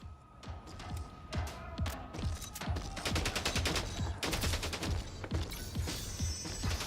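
Gunfire in Mindseye, a fast run of sharp automatic shots that crackles steadily in dense bursts for several seconds at moderate loudness.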